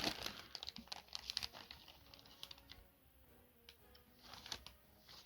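Hands rummage through a plastic bag of parts from an Airfix 1/24 BF 109E vintage classics kit, producing quiet, close crinkling and rustling in irregular bursts with brief pauses.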